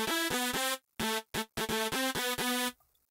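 Nexus synth lead preset XTC from the EDM 5 expansion plays a choppy riff of bright, sustained harmonic chords broken by short stabs and gaps, loud and dry, ending in near silence.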